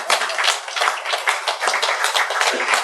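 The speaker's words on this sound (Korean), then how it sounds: "박수 좀 쳐" An audience at a lecture on the Vimalakirti Sutra claps together in a dense, steady patter of many hands, sustained without a break and with no voices over it.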